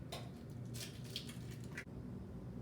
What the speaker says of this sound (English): Crack my egg.